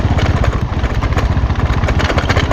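A motorcycle rides a potholed, bumpy road in San Pascual. Its engine runs loud and close with a steady rumbling putter that never lets up.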